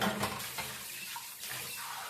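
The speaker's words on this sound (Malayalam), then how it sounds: "വെള്ളം ഒഴിക്കാം" Water pours steadily into a cooking pot of spicy pumpkin moloshyam being cooked, a close, continuous splashing rush that lasts about two seconds with no talking.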